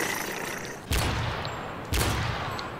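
Two heavy, sharp shots from a Barrett sniper rifle in a video game fire about a second apart, each a loud crack with a short, booming tail.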